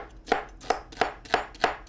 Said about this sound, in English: so we're gonna chop an onion like this